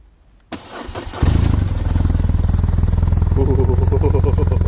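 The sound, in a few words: 2007 BMW R1200RT motorcycle engine starting with aftermarket exhaust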